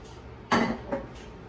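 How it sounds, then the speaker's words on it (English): Chopped onions and celery tipped into a cooking pot for a fish tea soup, a soft rustling thud followed by a smaller second drop and a faint third, close by. "The rest of the onions and the celery, because I have nothing to do with it and I don't want to throw it away. I chopped it up. Might as well add it to the pot."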